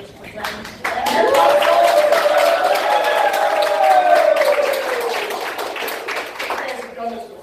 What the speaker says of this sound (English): we want to give them a round of applause. Can we practice it?